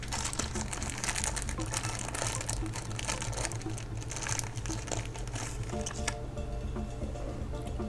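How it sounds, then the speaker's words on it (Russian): A small plastic bag of parts for a 1/35 Zvezda KamAZ-5350 model kit is handled close up. It gives a run of crinkles and light rustling over a low steady hum, with no talking. "Один пакетик с другими детальками."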